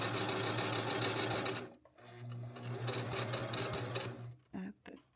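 A sewing machine stitches fabric in a fast steady whir, pauses briefly, runs again for a couple of seconds, then finishes with two short bursts close up.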